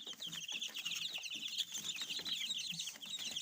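Ordinary mixed-breed chicks huddled on sacks in a makeshift warm pen keep up a dense chorus of high cheeping peeps, continuous and close, with no speech.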